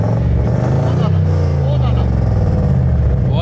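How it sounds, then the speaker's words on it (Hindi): Restored Toyota Cygnus idling loudly up close with a heavy, steady low rumble and uneven exhaust burble, while someone talks over it. "अब इसके आप पटाखे सुने मज़ा आएगा आपको"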